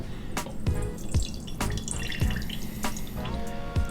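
Juice pours one-handed from a can into a mason jar, a steady splashing stream with scattered drips and splatter throughout. No one speaks.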